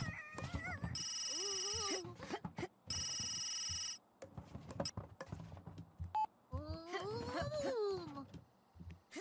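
A telephone rings in a video game, with bright electronic ring bursts repeating in short blocks near the start, mixed with game voices and people talking over it.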